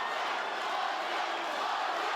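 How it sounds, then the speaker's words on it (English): Arena crowd at a welterweight title fight chanting and screaming a fighter's name, a loud, dense, continuous roar of many voices lasting the whole moment. "Crowd screaming Martin."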